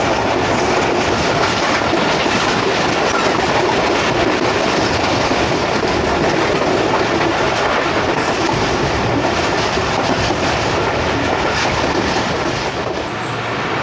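The 14DN Awam Express passenger train meets its sister train at Kala Gujran in a loud, continuous rumble of rolling wheels and rail clatter, close and unbroken for the whole stretch.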